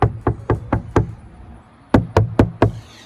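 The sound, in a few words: hand knocking on sound-deadened Volvo 240 car panel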